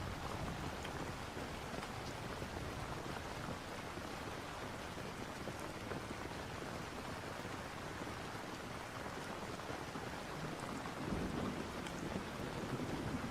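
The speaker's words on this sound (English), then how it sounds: "The wind howled outside as a fierce storm battered the small suburban house." Steady, dense rainfall pours down continuously, with a low rumble of thunder swelling near the end; no voices, just the storm throughout.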